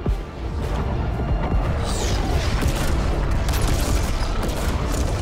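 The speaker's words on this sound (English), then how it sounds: "All the rockets are going in one hole" Rockets exploding in Fortnite, a dense continuous barrage of loud booms and blasts rolling over one another for several seconds with no pause.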